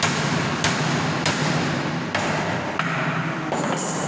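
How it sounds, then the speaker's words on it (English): Hammer blows on hot steel while bending a forged square-section nail, five or six sharp ringing strikes spaced roughly half a second apart, loud and close with no talking. "Now we can see the bending operation."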